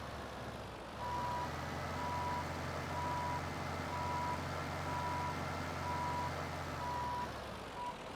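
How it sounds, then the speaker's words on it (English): A GMC truck hauling chaff in Farming Simulator 17 hums with a steady engine rumble, while an evenly spaced reversing beep repeats about once a second over it. "it is surprising what this truck will actually go through"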